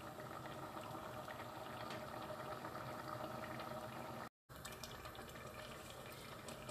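Pumpkin and bean erissery curry simmering in a pot, a steady dense bubbling that runs continuously at close range, with a single brief dropout partway through and no talk.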